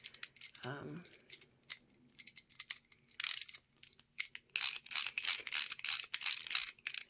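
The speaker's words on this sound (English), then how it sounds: "I'm going to put the socket on it and hopefully that will work." A ratchet socket wrench works on a sewing machine treadle being converted from domestic to industrial use, giving bursts of sharp clicking in short runs, close and fairly quiet, with a few mechanical knocks between them.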